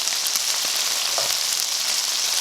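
Chicken pieces frying in a non-stick pan for butter chicken, a loud, close, continuous crackling sizzle with no voices.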